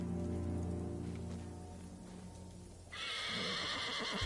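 A horse in the video game Ghost of Tsushima whinnies loudly in a long, shaky neigh, then hooves clop amid a steady patter of rain.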